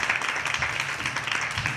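An audience applauding at a live show in Spanish as a performer arrives, a dense, continuous wash of many hands clapping at once, loud and steady throughout the short burst.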